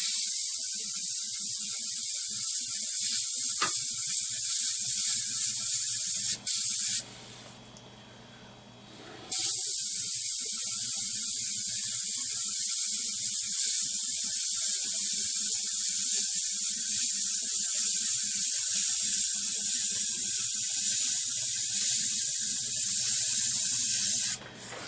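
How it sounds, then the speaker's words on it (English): A loud, continuous spray hiss from an airbrush spraying thinned Vallejo Model Color paint runs almost the whole time, stopping briefly once before resuming steadily. "I'll carry on spraying because that is the thing that people say blocks the nozzle up"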